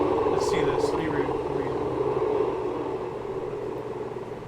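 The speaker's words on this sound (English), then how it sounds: "stranded horse hoisted by helicopter in California" A helicopter hoists a stranded horse in California, its steady broadband rotor and engine drone running continuously and easing slightly toward the end, with speech apparently mixed in.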